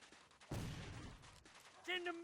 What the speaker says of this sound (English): So the first part of this mission is pretty standard with your usual combination of grenades and gunshots.